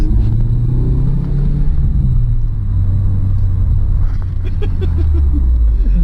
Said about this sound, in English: Just sounds good because he can drop it back a couple of gears